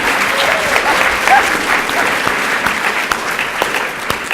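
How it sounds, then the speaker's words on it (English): Steady, dense audience applause fills a 2019 public humanities award ceremony, many hands clapping together at an even level throughout with a faint voice or two underneath. "Yes, we can clap for Daughters of the Dust."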